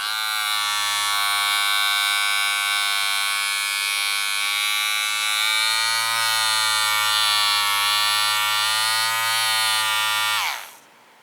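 Cordless men's hair clippers with an LCD display running alone, a steady close electric buzz held for about ten seconds with slight pitch wavering, then a quick wind-down as they switch off.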